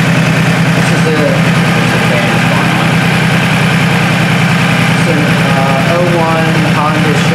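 A Honda Shadow Spirit 1100 motorcycle with two carburetors idles loud and close, a steady, even low pulsing throb that holds without change throughout.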